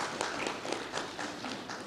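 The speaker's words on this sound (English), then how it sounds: "Let's give her a round of applause" Applause from a seated audience at a disability mainstreaming plan launch, honoring the mayor; faint, steady clapping from a modest crowd, slightly distant and continuous throughout.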